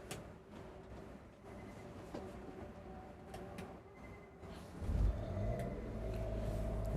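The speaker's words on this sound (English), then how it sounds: "I'm going to start that generator." The generator on a 2023 Newmar Ventana 4369 motorhome cranks to life partway through, settling into a steady low, rumbling hum after a quieter stretch of faint background noise.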